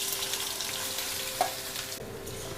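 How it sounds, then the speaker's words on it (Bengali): Vegetables hit hot oil already seasoned with panch phoron and dried red chillies, a steady close sizzle with a brief clink partway through before the frying settles a little quieter. "তো এবার সবজিগুলোকে আমি দিয়ে দিচ্ছি।"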